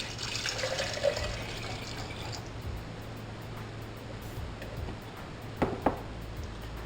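Two cups of water pour into a 22 oz cook pot with a soft continuous splashing fill that tapers off, followed by a couple of light metallic clinks.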